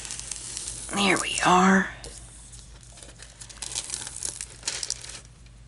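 A protective plastic sheet being peeled back, giving a loud crinkling, crackling rip for about a second, with a person talking quietly before and after.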